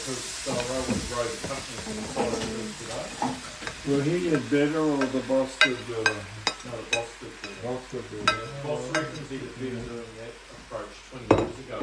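Cauliflower, carrot and cabbage stir-frying for a Thai shrimp and cashew vegetable dish, a steady sizzle under repeated scraping and clanking of a utensil against the pan, close and continuous.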